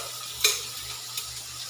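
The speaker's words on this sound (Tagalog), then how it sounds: "Igisa natin to yung mga sagol na to, yung mga sangkap." Ingredients for pancit bihon sautéing in a pan give a quiet steady sizzle, with two brief utensil clicks against the pan close by.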